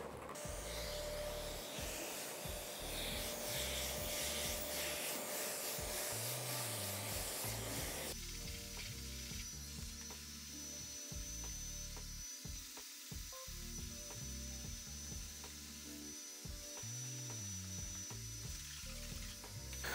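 Hand sanding of filler putty using a sanding block fitted with sandpaper, a steady continuous scraping rasp that runs close and loud throughout, shifting slightly in texture partway through as the strokes continue.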